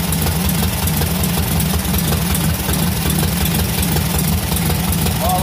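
Loud and near, the 1300 engine of a homemade car idles in a steady, throbbing low drone with a faint knocking rhythm that runs unbroken throughout.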